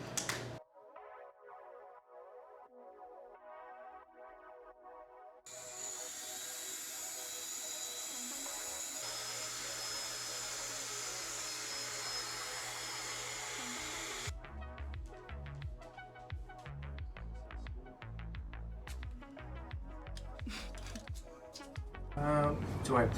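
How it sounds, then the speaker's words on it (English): A spinning drill with a toothbrush attached buzzes loudly and steadily for several seconds while scrubbing a carbon fiber longboard, followed by clattering handling noises, with a voice speaking nearby. "Toothbrush and a drill."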